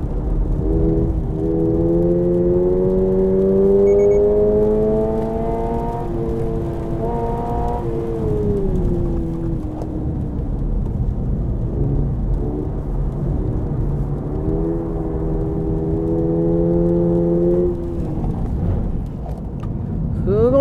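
A Toyota 86 (ZN6) fitted with TRD parts hums steadily while driving, its pitch rising and falling with speed changes, a continuous smooth drone throughout.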